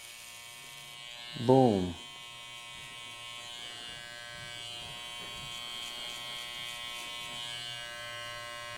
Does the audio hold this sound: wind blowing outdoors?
no